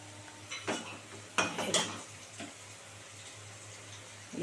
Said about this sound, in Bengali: এবার একটু ভাজা ভাজা হবে